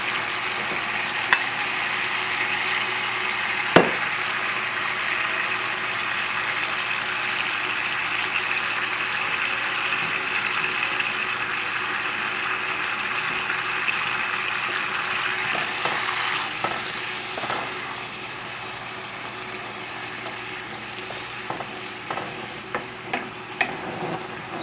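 Merlot and broken-down tomatoes sizzle and fry steadily in a hot pan, a continuous close crackle with occasional small pops and no talking.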